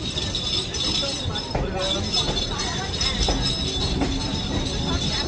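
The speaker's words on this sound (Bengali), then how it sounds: "এই যে প্রিন্সেপ ঘাটের ট্রেন, চক্র রেল" Chakra Rail circular railway train at Prinsep Ghat in Kolkata, a continuous rumbling clatter with faint metallic squeal, steady and fairly close, with people talking over it.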